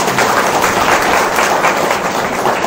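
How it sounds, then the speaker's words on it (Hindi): An audience at a spiritual talk breaks into loud, sustained applause, dense clapping from many hands that holds steady throughout with no speech over it. "ताली बजा।"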